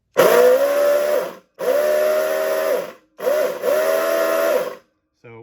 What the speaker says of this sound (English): And then we also have a horn function.